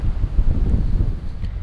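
Strong wind buffeting the microphone at a riverbank while fishing in Astrakhan, a loud, low, continuous rumble with gusting swells and no talk.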